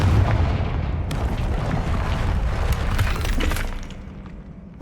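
A Confringo spell in Hogwarts Legacy blasts through a magical barrier, giving a dense, loud, sustained crackling roar with shattering bursts that fades away toward the end.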